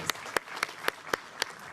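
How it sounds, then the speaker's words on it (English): An audience at a city's State of the City address applauds in a steady wash of clapping, with one nearby pair of hands clapping in a regular, distinct beat. "So I think that deserves applause."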